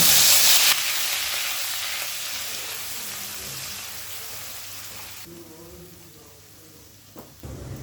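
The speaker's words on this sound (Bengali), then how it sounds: "পেঁয়াজ বাটাটা গ্যাসটাকে মিডিয়াম ফ্লেমে রেখে দু থেকে তিন মিনিট ভেজে নেব" Onion paste frying on a medium flame, a strong close hiss that starts loud and slowly softens into a gentler sizzle, with a small knock near the end and no speech.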